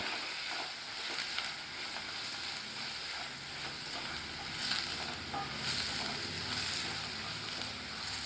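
Mutton bones sizzling over full heat in a pot, a dense steady frying hiss with occasional stirring scrapes, close and even in level, with no voices.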